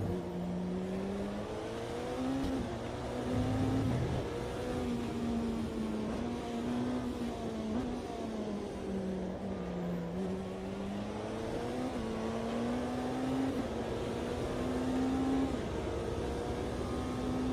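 An Audi race car engine in the Automobilista 2 racing game revs continuously, its pitch rising and falling through gear changes and corners, steady and prominent with no talking.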